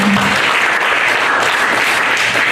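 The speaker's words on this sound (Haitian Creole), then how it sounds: "Applaudissez le Seigneur." A church congregation in Tampa, Florida applauds together during a worship service, with steady, dense clapping that fills the whole stretch at close range, loud and continuous from start to finish.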